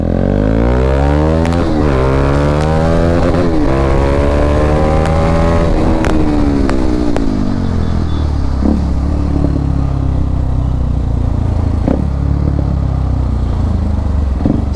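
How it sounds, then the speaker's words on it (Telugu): A motorcycle with an aftermarket silencer exhaust and a broken dB killer revs up and down through several rising and falling pitches, loud and close, with a raspy exhaust note and clattering in places. "సైలెన్సర్ మనం పెట్టడం వల్ల ఏదో వేరే సౌండ్ వస్తుంది"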